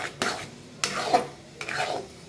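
Jaggery semolina sheera with raisins is stirred in a pan over low heat: three separate, close scraping strokes of a spoon against the pan, each with a soft sticky swish.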